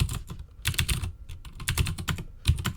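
Rapid typing on a computer keyboard, close and crisp, with irregular bursts of key clicks and brief pauses between runs.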